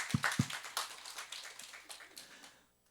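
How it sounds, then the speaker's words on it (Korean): A church congregation claps during a Sunday service: a few sharp hand claps at first, then scattered, softer applause that fades to silence. "우리 주님께 한번 박수 한번 하시죠"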